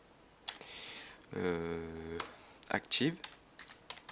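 Keys tapping on a computer keyboard while code is entered, a few scattered clicks between stretches of French speech that dominate the middle of the moment.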